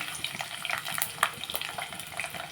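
Green chillies sizzle and crackle in hot oil in a pan on a stove, a soft uneven frying sound with small pops and spatters throughout.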